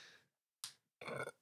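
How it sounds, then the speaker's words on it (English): A short belch from a man during a casual podcast conversation, one low guttural burst after a couple of softer sounds, close-miked and isolated in a quiet gap. "Excuse me, so random belch."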